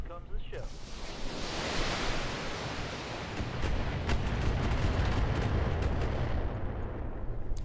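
Heavy weapons fire from mech combat in the Battletech video game, a sustained loud roaring barrage of broadband blasts that swells and rumbles for several seconds, with a voice speaking briefly over it.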